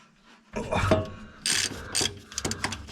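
A ratchet wrench working bolts loose on a 1939 Chevrolet, close rapid clicking pawl bursts in short runs with brief pauses between strokes.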